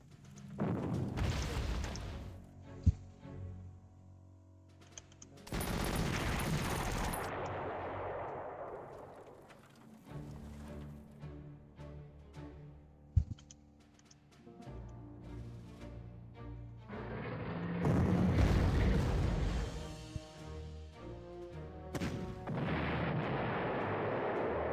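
Strafing gunfire and explosions in a WWII strategy video game, with repeated loud bursts of booming fire and blasts separated by quieter rumbling stretches, no talking.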